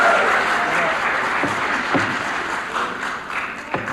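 Applause from an audience at a company shareholder meeting, a dense crowd clapping that gradually thins and fades, with a few scattered individual claps near the end.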